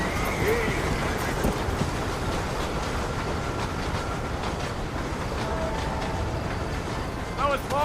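A horse in the Red Dead Redemption western game clip-clops steadily and snorts, with a brief whinny near the end, all over a constant rumbling ambient bed.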